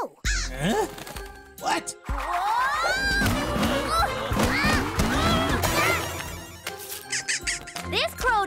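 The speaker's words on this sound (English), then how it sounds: "This crow doesn't scare easy" A cartoon crow squawks and caws repeatedly in an animated children's science show, loud and close, mixed with exaggerated sound effects and brief voices.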